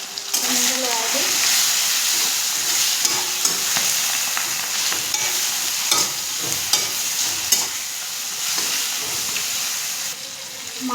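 Fish curry sizzling in a pan with oil, salt, red chilli, cumin and coriander powder, a steady loud frying hiss with scraping stirs throughout and a voice speaking briefly.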